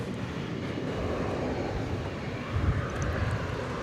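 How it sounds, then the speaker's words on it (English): A Boeing 787 Dreamliner wide-body jet at night preparing to take off, a dense continuous engine rumble holding steady and moderately loud, with a slight surge toward the end. "Got a wide body preparing to take off."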